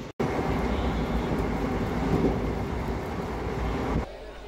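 The Teesta Torsa Express passenger train runs between Kolkata and New Jalpaiguri with a continuous loud rumble and clatter heard from inside the carriage, which drops in level just before the end.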